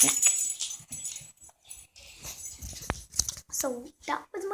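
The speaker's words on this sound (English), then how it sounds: "So that was my dog." A dog gives short high whimpers and whines amid a person talking, with quiet pauses and movement between the cries, all close by.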